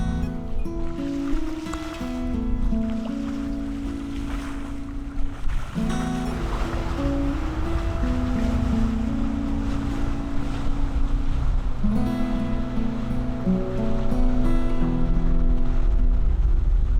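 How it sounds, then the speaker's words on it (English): Calm sea waves wash around a sailing catamaran in low wind, a soft continuous swash with steady wind noise over the microphone and a low hum underneath. "Lovely, calm sea state, low wind, and it's just really nice to be out here."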